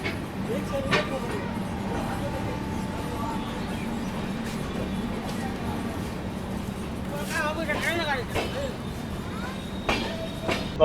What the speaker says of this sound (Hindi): तो अपनी ट्रेन निकल चुकी है दरभंगा जंक्शन से।